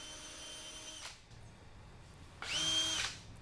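A brushless power drill whirs in two short bursts, the second higher-pitched and louder, over a faint background hum.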